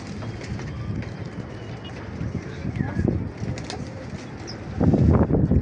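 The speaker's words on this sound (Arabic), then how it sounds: "بصوا الحمام" Pigeons cooing in a coop in Imbaba on a windy day, soft repeated low coos with some wing flutter over steady background noise, and voices nearby.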